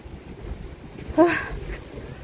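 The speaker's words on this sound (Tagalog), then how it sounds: "Oh my gosh, mahangin. Yan ang hangin guys." Wind buffets the microphone in a steady low rumble, with a brief louder gust in the middle; no one speaks.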